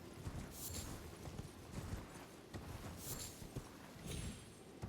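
A horse's hooves clip-clop in Elden Ring Shadow of the Erdtree, a quiet, steady rhythm of hoof strikes repeating throughout without speech.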